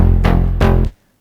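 An Afterlife-style synth patch plays with its low-pass filter cutoff lowered, two short, bright-edged pulses over a thick low tone, loud and close before ending sharply.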